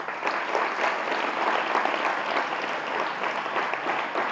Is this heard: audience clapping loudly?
yes